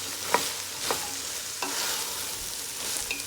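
Carrot and other ingredients for a Guyanese bora and chicken dish stirred in a hot frying pan, a steady sizzle broken by several scraping clinks of the spoon.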